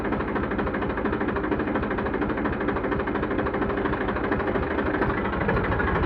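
A 2015 Eicher tractor engine runs steadily at idle nearby, a dense continuous diesel rumble with a fine rattling texture that holds an even level throughout, with no voices.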